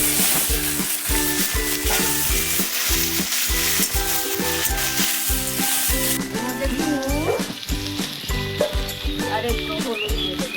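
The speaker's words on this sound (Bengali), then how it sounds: "তেল গরম হয়ে গেছে, আমি তরমুজের এই অংশটা ভেজে নেব।" Battered watermelon rind fries in hot oil with a dense, continuous sizzle and crackle, while a utensil stirs and scrapes in a rhythmic pattern, close and steady throughout with no talking.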